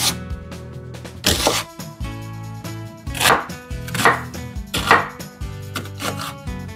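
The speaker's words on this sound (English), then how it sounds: "Just give it a rough chop because you're going to cook it with the celery." A knife roughly chopping an onion on a board for tomato bisque, with four loud, well-spaced cutting thuds over steady low background music.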